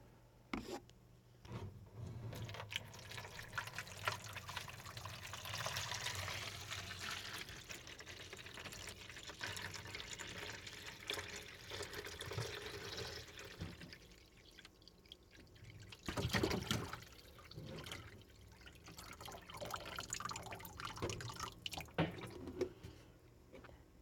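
Water runs and trickles into a small pond inside a snake enclosure, a continuous splashing flow that swells and fades over about twenty seconds, with a brief louder surge partway through.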